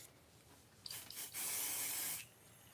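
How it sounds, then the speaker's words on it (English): Pixie spray misted from a spray bottle: a couple of short quick pumps, then one sustained loud hiss lasting under a second, close and alone in a quiet room. "So I just sprayed a little bit with pixie spray."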